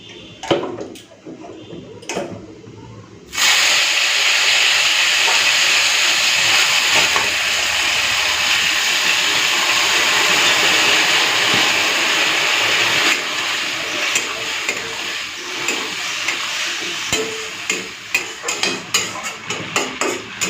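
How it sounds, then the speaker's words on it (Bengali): Hand-mashed masoor lentils hit hot oil tempered with five-spice. After a few quiet seconds of small kitchen knocks, a sudden loud hissing sizzle starts and holds steady, then eases slightly and breaks into clatter and bubbling. "তো এখন এই ডাল মাখাটা দিয়ে দেবো।"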